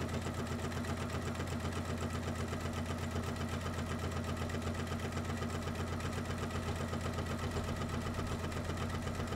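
A sewing machine runs a steady line of stitching through bag fabric, holding an even, continuous mechanical whir with a fast regular needle rhythm from start to finish and no voices.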